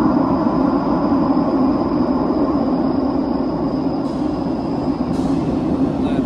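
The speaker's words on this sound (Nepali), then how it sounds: "ल मेट्रो पनि आइसकेको छ, आवाज सुन्दैछ स्वा गरेर" A metro train in Portugal pulls into a station, a loud, steady low rumble and hiss of the approaching cars filling the whole clip with no talk.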